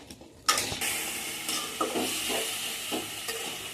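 Sliced purple cucumber fries in a pan over medium-high flame, a sudden loud sizzle bursting in and holding steady, broken by the rhythmic scrapes of a spatula stirring.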